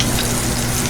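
Food fries in a hot pan with a dense, even sizzle, a brief steady crackling hiss at close range with no voices.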